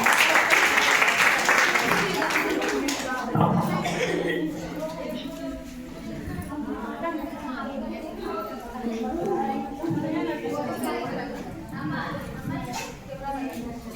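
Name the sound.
audience applause welcoming school performers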